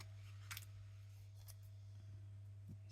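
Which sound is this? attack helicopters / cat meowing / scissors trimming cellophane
scissors trimming cellophane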